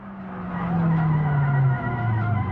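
Tires skid and squeal in BeamNG.drive on a car that has no brakes. A loud, sustained screech slowly drops in pitch under the engine tone, then lurches lower near the end. There is no talk.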